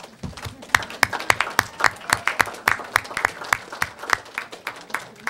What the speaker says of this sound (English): Students, how about you giving a round of applause to your parents?